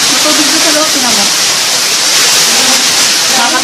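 Water flows steadily inside a cave, a loud, dense rushing wash with no break.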